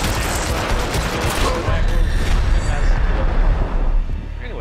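Dense, chaotic gunfire from a shootout in Hitman crackles and booms loudly and almost continuously, with a voice faintly mixed in.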